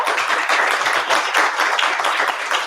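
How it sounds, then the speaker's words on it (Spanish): Audience at a Tolkien society gathering in Spain applauds, a brisk, dense patter of many hands clapping evenly throughout the short stretch. "Un aplauso"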